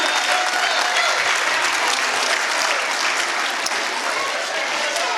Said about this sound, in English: we need one more round of applause for these folks up here